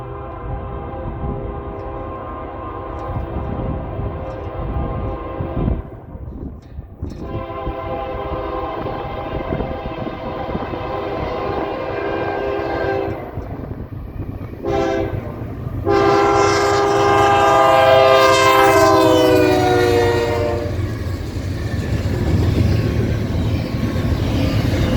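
A Norfolk Southern freight train, NS 284, rolls past in Hillsboro, Alabama, its horn sounding in long, loud multi-tone blasts over a steady rumble of wheels and engines, the horn swelling strongest near the end.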